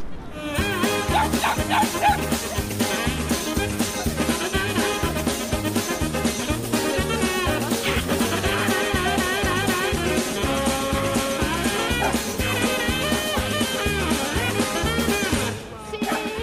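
Dogs bark and yip during a dog parade through a town, mixed under loud continuous music with a voice over it throughout.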